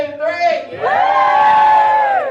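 An audience at a drag brunch screams and whoops loudly on cue. A short burst is followed by a sustained, shrill collective cheer.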